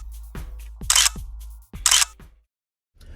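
An Insta360 X3 camera snaps pictures: two bright electronic shutter bursts, each framed by soft clicks and beeps, heard close and clear against otherwise quiet surroundings.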